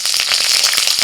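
Green chillies crackle loudly in hot oil with a bay leaf and panch phoron, a dense, close, continuous spitting hiss that lasts just over a second, with no voices.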